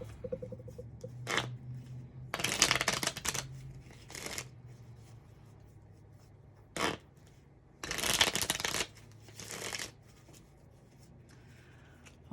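Tarot cards being shuffled up close, several short riffling bursts separated by quiet pauses, crisp and papery, alone without talk.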